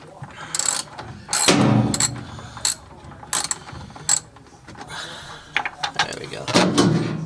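Long screws being unscrewed from a washing machine by hand, intermittent ratcheting clicks and metallic rattles in short uneven bursts, close by, with a voice speaking now and then.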